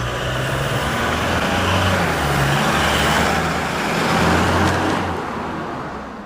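A Toyota Hilux GUN125 fitted with a Ganador aftermarket muffler drives at low speed, a steady deep exhaust drone with a low rumbling hum, continuous and fairly close, no voices.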